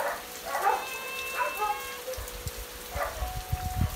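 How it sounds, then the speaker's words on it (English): Light rain pattering steadily in the background while a few muffled barks or thumps come and go nearby. "Pretty decent little shower."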